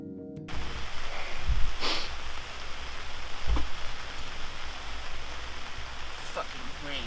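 Constant rainfall patters in a soft, even hiss, with a couple of dull thumps standing out partway through, in Oregon.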